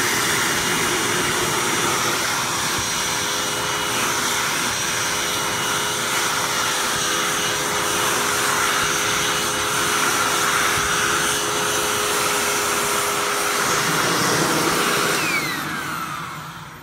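A Hoover Tempo Widepath U5140-900 upright vacuum runs with its upholstery tool attached, a loud, steady motor whine and airflow roar held close for most of the stretch before winding down at the end.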